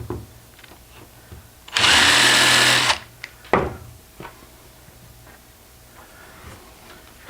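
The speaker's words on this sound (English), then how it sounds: "Oh, pilot hole." A power drill bores a pilot hole in wood while building a trellis, one loud close whirring burst lasting about a second, then a sharp knock and a few quieter clicks and handling sounds, no speech.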